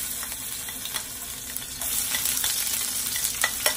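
Garlic and onion fry in hot olive oil, giving a close, steady sizzle with crackling pops and the scrape of stirring.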